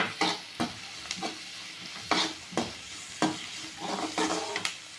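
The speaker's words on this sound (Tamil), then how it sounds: "இது கூடவே நம்ம ஒரு கைப்பிடி அளவு பூண்டை ஆட் பண்ணிக்கலாம் இதையே நல்லா வதக்கிடணும்" Garlic sizzles in a hot pan while a spoon scrapes and stirs it in repeated strokes, close and clear with no talking.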